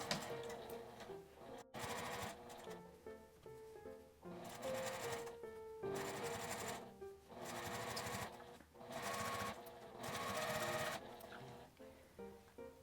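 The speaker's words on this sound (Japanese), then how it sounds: "端ミシンをかけます。" A sewing machine edge-stitches the lining of a fabric face mask in close, loud bursts of rapid needle chatter, stopping and restarting several times across the pass.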